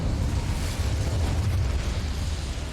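The Incendio fire spell in the video game Hogwarts Legacy lets out a loud, continuous, rumbling whoosh of flame, heavy in the low end and steady for nearly three seconds.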